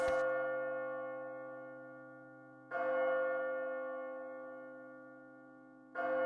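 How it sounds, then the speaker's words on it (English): A church bell tolls three times, spaced about three seconds apart, each strike ringing out clearly and decaying slowly, as the evening bell in the video game Labyrinth of Refrain: Coven of Dusk, heard alone without voices. "The evening bell rang ominously."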